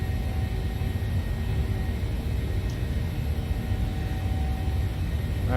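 Steady broadband jet-engine roar of a PMDG Boeing 737-700 climbing after takeoff in Microsoft Flight Simulator, a continuous loud cabin-style drone with low rumble, unbroken and with no talking.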